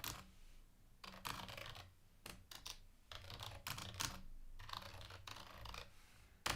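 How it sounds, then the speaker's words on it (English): Quiet computer keyboard typing as a chat message is entered, bursts of light clicking keystrokes separated by short pauses, faint and close, with no speech. "So I could type in a message"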